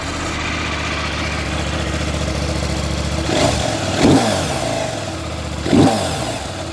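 A CFMOTO 800MT motorcycle engine running at a steady idle, then revved twice in short, loud bursts before settling back to idle, close by.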